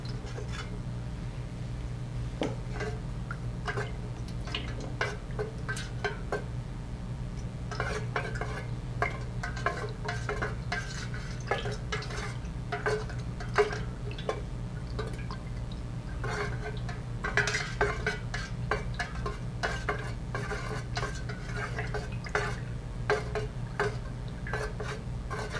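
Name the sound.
stirring dye into melted soy wax in a pitcher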